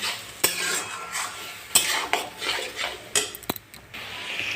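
Tomato chutney being stirred in a pan after turmeric goes in: a utensil repeatedly scrapes and clinks against the pan in uneven strokes, with light cooking hiss beneath, close and clear.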